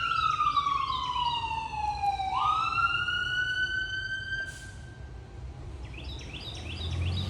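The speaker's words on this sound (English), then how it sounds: "I'm going to hold for this siren." An emergency vehicle siren wails loudly and steadily, its pitch sliding down and then holding as it passes, before fading and giving way to a faster yelping pattern at a distance.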